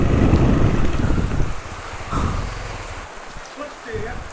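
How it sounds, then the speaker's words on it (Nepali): Rain falling during a dirt bike ride on a mountain pass, a dense broadband wash of rain and wind noise that is loud at first and then eases into a softer patter. "हेर्नु सक्नुहुन्छ यस्तो पानी परिरहेको छ"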